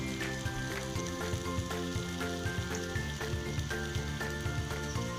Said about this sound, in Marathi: आपल्याला हे वडे तेलात सोडायचे